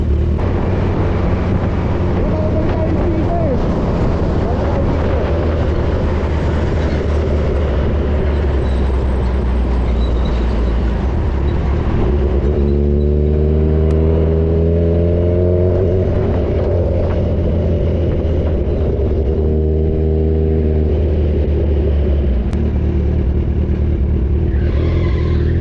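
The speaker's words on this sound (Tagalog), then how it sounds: "traffic." Steady road traffic rumbling nearby, a continuous broadband wash of engines and tyres, with one vehicle's engine audibly revving up and shifting midway before the flow settles back to a constant hum.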